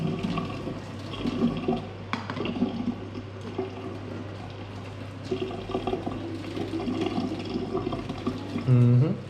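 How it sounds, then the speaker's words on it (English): Water from a pot of freshly cooked noodles pours through a partly covered lid into a sink, a steady splashing rush that runs the whole time and swells louder near the end. "we cover it up slightly, and we just pour. We just pour the water through"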